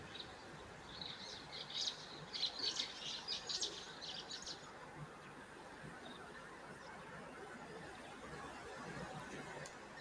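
White-browed sparrow weavers calling at a waterhole on a cold, rainy day, a quick burst of chattering chirps early on, then fading into faint scattered notes over steady ambient hiss.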